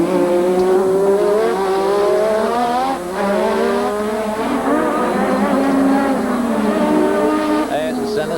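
Formula 1 race cars at the 1985 Detroit Grand Prix, Lotus Renault turbo engines screaming at high revs, several rising and falling pitch sweeps, loud and continuous with a commentator talking over them.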